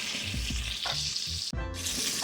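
Chicken wing pieces fry in hot grease, producing a steady, close crackling sizzle with a few soft low bumps and one brief dropout.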